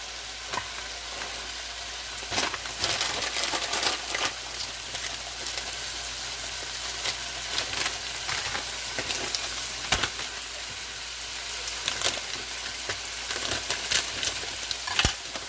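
Corn stir-fried for Spanish-style chicken and noodle fried rice, a steady loud sizzle that runs throughout with scattered clicks and scrapes of stirring, close and without talk.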